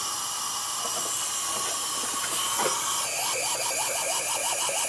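Compressed air escaping past a leaking exhaust valve during a cylinder leakdown test on a Buick engine, a steady loud hiss with a faint wavering whistle riding on top, no voices.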